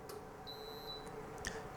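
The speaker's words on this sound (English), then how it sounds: "You will hear a beep and also see the flashing the red lights on top." A faint electronic beep sounds from an ADI distiller as its lavender hydrosol process stops, a single thin tone lasting about half a second over quiet room hum, with a couple of small clicks.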